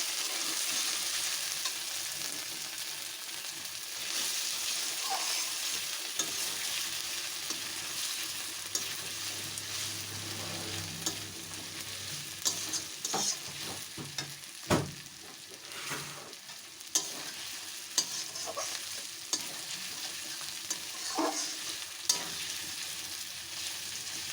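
Mutton curry masala stirred in a pan over a low-to-medium gas flame, with a steady sizzle throughout and scattered scraping clicks from the spoon.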